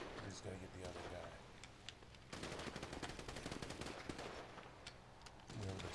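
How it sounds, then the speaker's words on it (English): Grand Theft Auto V gunfire crackles in rapid bursts of automatic shots with pauses between them, moderately loud, while someone talks over the game. "Gunfire is coming."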